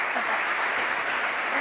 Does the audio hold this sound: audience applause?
yes